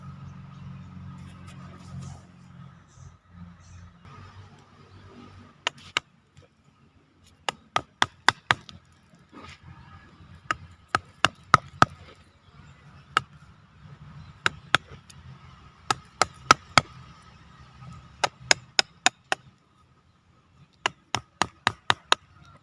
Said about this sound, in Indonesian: Kita bisa lakukan untuk pembersihan yang di atas pakai pahat.